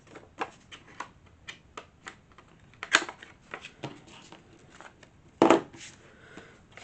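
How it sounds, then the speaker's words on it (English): A handheld corner rounder punch clicks as it rounds the corners of a paper journal card, sharp close snaps spaced irregularly among softer paper handling rustles, one louder crunch near the end, no talking. "I want to use my corner rounder and round up these corners"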